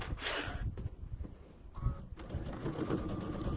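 A large home sewing machine runs a quarter-inch seam on an Easter bench pillow, its motor whirring in short uneven bursts with a few clicks and pauses, close by.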